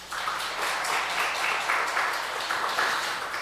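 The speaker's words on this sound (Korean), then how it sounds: "박수 한번 하십시다" Church congregation applauding during a Wednesday worship service, a dense, even wash of clapping from many people that holds steady for several seconds at fairly close range.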